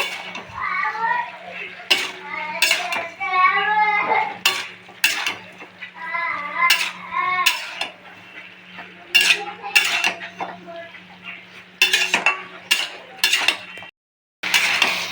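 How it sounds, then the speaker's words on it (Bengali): A utensil clatters and scrapes against a pan while small fish and pui (Malabar spinach) stems are stirred together. Sharp metallic knocks come up close over a low hum, and faint voices and chatter sit in the background. "একটু নাড়াচাড়া করে নিচ্ছি"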